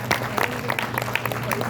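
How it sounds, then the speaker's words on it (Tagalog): An audience at a gathering of Filipino careworkers claps for a speaker who has just finished reading, scattered close hand claps over a murmuring room with talk running underneath. "Maraming palakpak kasama Floro Francisco."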